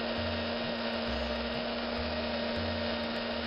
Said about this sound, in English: that tool I'm using there is a Tamiya panel line scriber